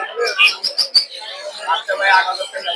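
Busy twittering and chirping of many small birds, high and close, with short bursts and trills overlapping, at a crowded bird market in Mirpur 1, Dhaka.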